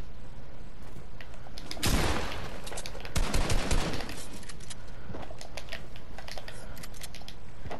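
SMG fire in the Fortnite video game: two dense rapid bursts, the first around two seconds in and a longer one around three seconds, set over steady game background noise with no talking.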